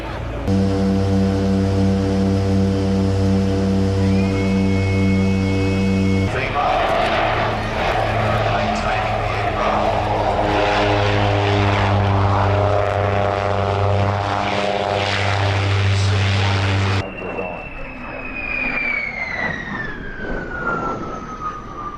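Two propeller aircraft of a display team flying at an airshow, a loud, steady engine drone with shifting tones that ends in a long falling pass, while a voice talks over it at times.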